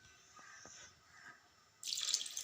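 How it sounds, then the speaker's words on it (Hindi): Water poured into a wok of washed masoor lentils, a sudden close splashing gush after quiet kitchen clinks, loud and steady to the end. "अब इसमें ये पानी ऐड करना है।"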